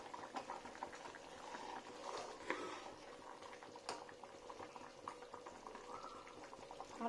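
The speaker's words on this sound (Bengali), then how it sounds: "ফুটছে ঠিকই।" A pot of Bengali-style mrigal fish curry with potatoes simmers at a rolling boil, giving a soft, continuous bubbling that stays fairly quiet and steady throughout, with no talking.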